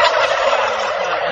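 A flock of turkeys, purebred birds raised naturally on a farm yard in Argeș, gobble loudly and close together in a continuous overlapping chorus, with no voices over them.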